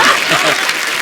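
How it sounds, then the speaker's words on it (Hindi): A studio audience on a comedy talk show applauds loudly and densely for three legendary singers, with a faint chuckle mixed into the clapping. "जोरदार तालियां हमारे तीनों लेजेंड्स के लिए"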